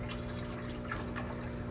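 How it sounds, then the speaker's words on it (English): Clean water runs steadily into a reserve tank used to refill a fish tank, a soft continuous trickle and flow with faint pump-like hum underneath, no talking. "Now I'm just gonna fill this reserve tank"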